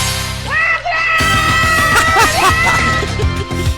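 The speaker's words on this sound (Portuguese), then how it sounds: "Pode gritar logo, eu deixo logo ela gritando" A woman screams loudly and continuously during a lively church worship service. Her voice rises and wavers over music and other voices, filling the whole moment.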